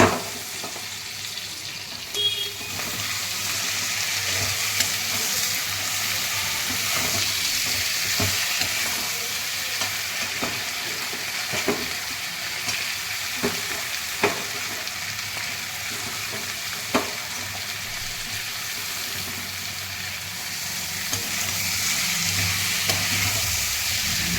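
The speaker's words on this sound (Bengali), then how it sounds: "এর মধ্যে দেখো আমি অ্যাড করলাম আলু, মাছের মাথাটা আর মশলা" Potatoes, a fish head and spices fry in a pan with a steady, loud, close sizzle, broken by occasional stirring scrapes and no talk.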